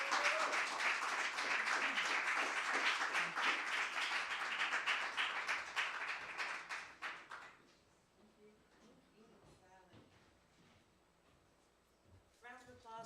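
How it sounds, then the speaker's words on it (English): An audience at a live spoken word event claps vigorously for about seven seconds, the applause then fading into quieter room sound and a voice beginning to talk. "Round of applause for Sally Haynes."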